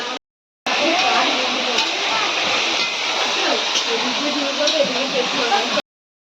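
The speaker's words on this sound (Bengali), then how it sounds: "এদিকে ক্যাপসিকাম, বিনস, গাজর ভেগর ফ্রাই করা হচ্ছে" Capsicum, beans and carrot fry in a pan at an outdoor family picnic, a loud, dense, continuous sizzle like rushing water that cuts off abruptly at both ends, with faint voices in the background.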